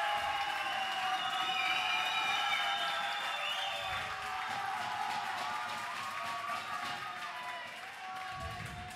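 Broad crowd noise at a Counter-Strike: Source grand final, applause and cheering, steady and moderately distant throughout.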